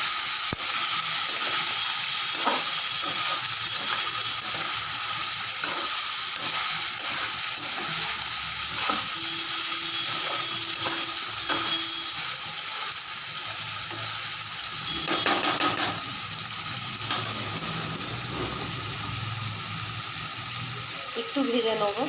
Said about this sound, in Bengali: একটু ভেজে নেব 7 মিনিট মতো।